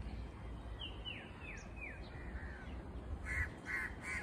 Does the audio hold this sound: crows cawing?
yes